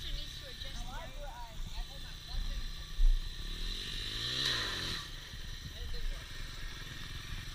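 Dirt bike engines rumble at idle and rev in the background while people talk over them and an engine climbs in pitch midway through.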